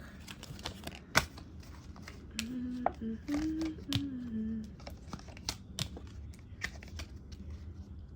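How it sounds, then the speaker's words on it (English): Crisp flicking and riffling of shuffled tarot cards in rapid bursts, with a low murmuring voice underneath partway through. "So, let me shuffle this real quick."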